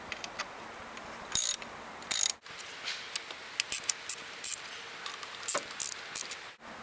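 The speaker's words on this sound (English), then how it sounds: "Now using a 10mm socket, move the retaining bolts holding the coils to the valve cover." A ratchet with a 10mm socket backs out the ignition coil retaining bolts on a BMW valve cover. Rapid close clicking runs in uneven bursts with short pauses, crisp and fairly loud, and nobody speaks.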